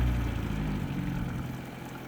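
A Yamaha 50 hp outboard motor idles at its slowest speed on a small lake, a steady low engine rumble holding close and fairly even throughout, easing slightly toward the end with no voices.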